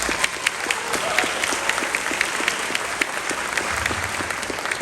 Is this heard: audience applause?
yes